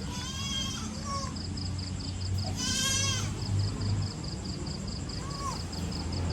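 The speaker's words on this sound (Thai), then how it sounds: "ทำเนียบน้องแพะนะคะ" Goats bleat at a petting farm, with a few wavering calls rising above a constant hum of background noise and a steady repeating high tone.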